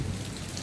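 Heavy rain from a thunderstorm falls steadily, a continuous dense patter of drops on surfaces at even loudness with no voices.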